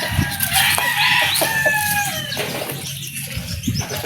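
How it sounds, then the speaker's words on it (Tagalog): Chickens crow and cluck close by, a few strained crows overlapping busy clucking and a brief burst of wing flapping, all in a steady outdoor yard din with no talking. "Ang gandang manok."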